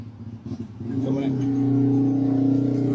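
A 1996 Toyota Camry with a 2.2-litre engine and automatic gearbox runs at a steady idle, its low, even hum growing louder and settling after the first second, with some faint activity near the start.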